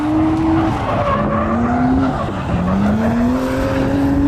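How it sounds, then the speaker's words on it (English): A car drifts and spins out, its tires squealing in long, wavering whines over a loud, continuous engine roar, with no talk. "Every time he spins out, he's trying to make like technical skid marks."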